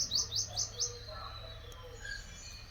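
Asian koel cuckoos calling outdoors, a run of four quick, rising bird calls in the first second, then softer, scattered calls further off.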